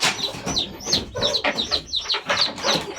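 Chickens cluck and squawk repeatedly, close by and loud, in a busy, continuous stream of short calls with no talking.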